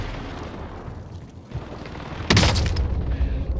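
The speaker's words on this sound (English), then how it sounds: "Precision airstrike." A precision airstrike explodes in a shooter video game: low background rumble, then a sudden loud broadband blast that stays sustained and roaring to the end.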